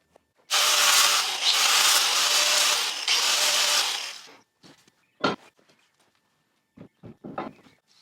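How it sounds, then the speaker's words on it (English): Grinder working burrs off a metal spare-tire mount, a loud harsh grinding burst of about four seconds up close, followed by scattered knocks and clatter. "But first I want to grind off some of these burrs with the grinder"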